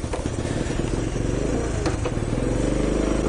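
A vehicle called Charlie, likely a motorcycle, idles and runs steadily with a low rumbling engine, close and continuous, with light clattering on top and no talk.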